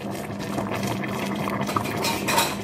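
Blended pepper and crayfish mix being added to a simmering fish pepper soup pot, with clinking spoon and pot contact, light bubbling and liquid sounds, close and continuous over about three seconds with no talk.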